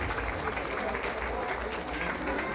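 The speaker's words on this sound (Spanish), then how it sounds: "Que se escuchen fuertes los aplausos, damas y caballeros, en esta gran ocasión" Guests at a quinceañera celebration applaud after the waltz, a thick continuous clapping mixed with crowd murmur and low booming room sound throughout.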